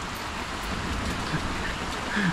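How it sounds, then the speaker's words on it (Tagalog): Steady rain falls around a campervan stuck in mud during a night downpour, a dense, even hiss that holds at a constant level from start to finish with no one speaking. "Hindi namin alam kung gaano katagal lang aantayo namin dito bago tumila tong ulan."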